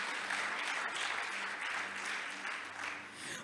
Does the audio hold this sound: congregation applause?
yes